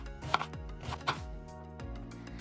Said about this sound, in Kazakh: Бір пиязды орташа көлемде турап шығамыз.